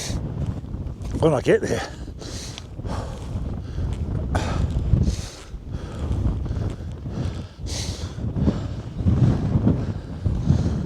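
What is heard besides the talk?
strong wind on a fell summit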